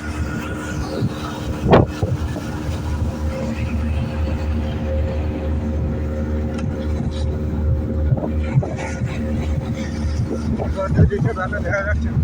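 Heavy storm wind buffeting a boat, a constant roaring rush with engine-like rumble underneath, and people speaking over it.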